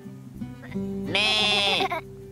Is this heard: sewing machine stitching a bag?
no